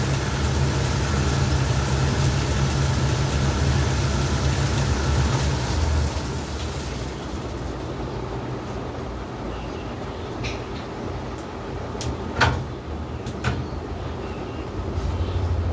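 A ceiling fan coil winding machine running, a loud steady mechanical whir and hum that drops to a quieter drone partway through, with a few sharp clicks near the end.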